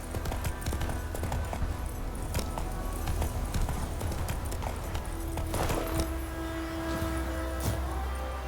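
Horse hooves clip-clop steadily in The Witcher 3: Wild Hunt, a continuous rhythmic trot of close, sharp hoof strikes over a low rumbling ground bed.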